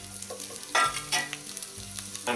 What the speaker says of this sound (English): I'm going to fry that off for a few minutes, release its flavours.